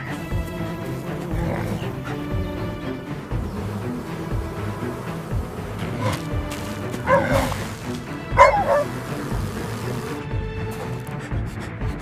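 Cartoon dog barking and yipping in short bursts over background music, with a couple of louder yelps near the end in a farm chase scene.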